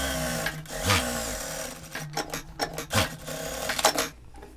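A sewing machine topstitches around a blazer collar at a presser-foot width, running in several short bursts of rapid stitching with brief pauses between them, close and clear.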